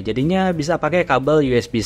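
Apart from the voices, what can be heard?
No everyday noise stands out behind the speech.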